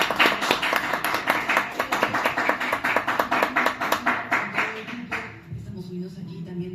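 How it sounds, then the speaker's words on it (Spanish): A room full of people claps together for a few seconds, a dense, steady patter of hands at close range, then tapers off quickly into quiet murmuring and a voice. "No sé si nos damos un aplauso todos."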